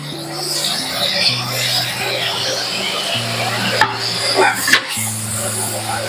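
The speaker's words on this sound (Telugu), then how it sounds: "ఇగో టమాటా ఇప్పుడు యాడ్ చేస్తున్నాను" Tomatoes dropping into a pan of frying okra masala curry, a steady sizzle with a couple of sharp clatters and knocks near the end, close and fairly loud, with a low steady hum beneath.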